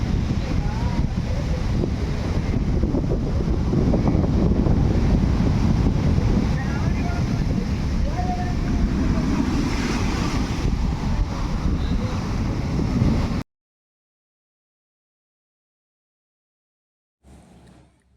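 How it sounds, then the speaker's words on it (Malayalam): Sea waves surge over the shore and flood a coastal road where no sea wall stands, a loud continuous roar with heavy wind buffeting the microphone, then it cuts to near silence with a brief burst at the end. "കടൽ കരകവിഞ്ഞൊഴുകുകയാണ്."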